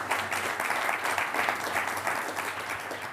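An audience at a lecture event gives sustained applause, dense and even throughout the short stretch, with no voices over it.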